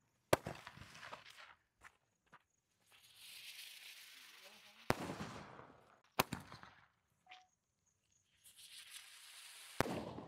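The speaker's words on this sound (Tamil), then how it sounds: "மேலே வானத்தை ஒரு 2 சுற்று சுற்றி அதுக்கடுத்து ஸ்டார்ட் மாதிரி வெடிக்கும்" Aerial firecrackers burst in a series of sharp, loud bangs, each followed by a fading crackle and hiss, heard outdoors. The type is a 2-in-1 spinning shell that circles in the sky before bursting, with several separate reports spread across the clip.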